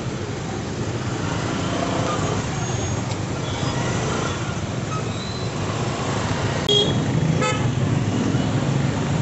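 Street traffic in Goa near the casinos, with a steady wash of passing cars and vehicle engines and a couple of short car horn toots near the end.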